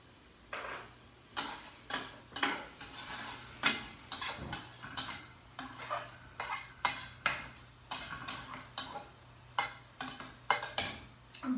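A utensil stirs tofu dumpling filling with jalapeños, chili garlic paste and soy sauce in a pan, making rhythmic scraping strokes about once every second over a faint sizzle, close and clear.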